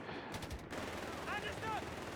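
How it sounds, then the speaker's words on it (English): Machine gun fire in the Company of Heroes 3 strategy game during a fight between two machine guns in a building: a short rapid burst of shots, followed by a wash of battle noise with brief whistling tones. "MG versus MG battle there in the building"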